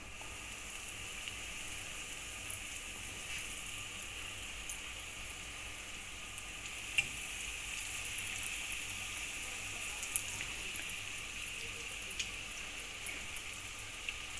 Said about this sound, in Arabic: كنشدوهم كنحطوهم في زيت سخونه